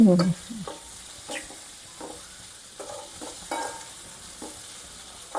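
Dried fish and green chillies are stirred in a pan with previously fried pieces, giving scattered scraping stirs over a soft sizzle at moderate loudness with no voices.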